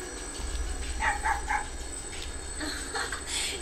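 Koromaru the dog barking in the Persona 4 Arena Ultimax fighting game, three quick close yips near the middle and a few softer barks toward the end, over a low steady background hum.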